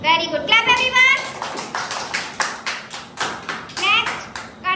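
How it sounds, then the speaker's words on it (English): Kindergarten children clap in a rhythmic run of sharp hand claps during a classroom number-name game, with children's voices and talk mixed in among the beats. "Clap everyone."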